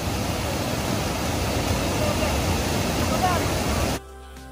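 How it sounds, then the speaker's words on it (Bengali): A mountain waterfall in South Korea pours in a constant broadband rush of falling water, loud and even, ending suddenly just before the close. "প্রচুর পরিমাণ পানি অনেক ঝর্ণা।"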